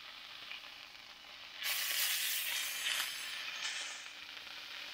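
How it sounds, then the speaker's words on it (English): Chanterelle mushrooms browning in a hot pan give a loud, steady sizzle and frying hiss that swells partway through and holds, close and alone without speech. "we're gonna brown that"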